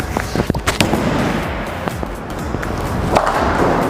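A Motiv Ripcord Launch bowling ball is thrown on a bowling alley lane: a thud at release, then a steady rolling rumble along the wood with sharp clatters toward the end, loud and close amid alley background noise.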